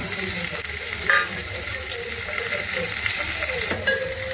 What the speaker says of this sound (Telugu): ఈ ఉల్లిగడ్డ పచ్చిమిర్చి కొంచెం వేయనివ్వాలి.